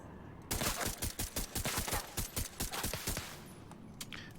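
Rapid pistol gunfire in the video game Division 2, a quick string of sharp, loud shots in steady rhythm that lasts about three seconds and then trails off.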